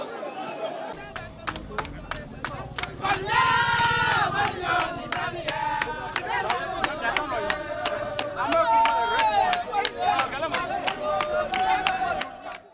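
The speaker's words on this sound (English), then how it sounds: "A number of them cheering him on." A crowd of supporters cheers and chants outside a court, voices loud and sustained with rhythmic sharp shouts or claps running through, a dense mass of noise throughout.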